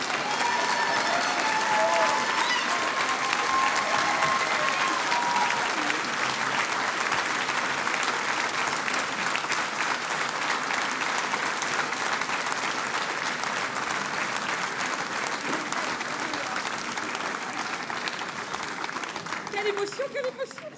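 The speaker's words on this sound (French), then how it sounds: "Je vous demande d'applaudir les deux fondateurs du théâtre La Girandole de Montreuil" Audience applause at a 2023 New Year's greetings ceremony in Montreuil, honouring the two founders of the La Girandole theatre: dense, steady clapping fills the whole stretch at a loud, even level, with crowd noise underneath.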